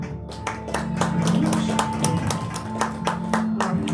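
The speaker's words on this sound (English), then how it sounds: "Give her a big round of applause, ladies and gentlemen." Scattered audience applause at a stage hypnosis show, with sharp, uneven claps over a steady background hum, fairly faint and sustained across the whole stretch.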